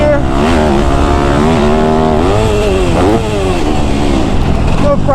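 A motocross dirt bike screams up through fourth gear, its loud engine note climbing in pitch with brief dips at the shifts. A rider shouts over the engine throughout.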